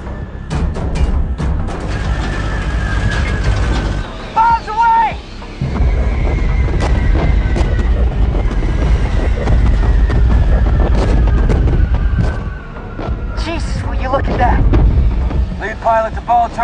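Bombs drop and explode in a World War II bomber battle scene: heavy continuous rumbling booms and engine roar, with shouted crew voices over the din.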